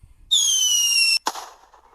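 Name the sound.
Sikoly firework rocket launching and exploding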